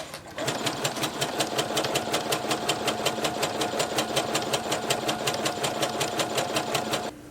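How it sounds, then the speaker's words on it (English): A sewing machine stitches a dress hem in one continuous run of about seven seconds, a fast, even mechanical chatter with a steady rhythmic needle beat, close and moderately loud, stopping abruptly at the end. "I'm gonna sew it first and then cut it."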